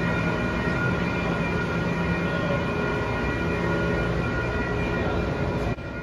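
A Bombardier Flexity light rail train on the Minneapolis Metro Blue Line runs steadily, with a moderate, even hum and faint whining tones over a low rumble.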